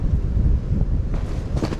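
Steady wind gusts through an Adirondack forest during a deer hunt, a close, loud rumbling roar buffeting the microphone with no speech.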